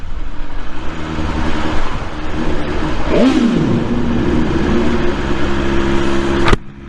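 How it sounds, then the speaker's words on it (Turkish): A BMW S1000R motorcycle engine idles close by with a steady rumble, then revs once sharply into a rising and falling wail before settling back to idle, cutting off abruptly near the end. "Aa, bu ses için bile alınır bu motor. Abi sesine bayıldım."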